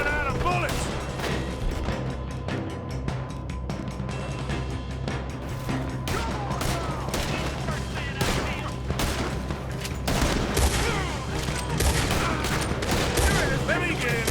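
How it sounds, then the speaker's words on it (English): Shootout gunfire in Red Dead Redemption 2, a dense continuous barrage of rapid shots and cracks over a steady low rumble and game music, loud and unbroken throughout, with voices mixed in. "Let's just... hope we don't run out of bullets."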